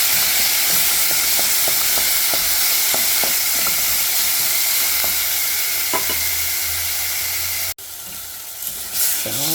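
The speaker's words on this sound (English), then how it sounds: "Mix it thoroughly until the tomato is cooked." Tomatoes fry and get stirred in a pan, giving a loud, steady sizzle with repeated scraping taps of the utensil, until the sound cuts off abruptly near the end.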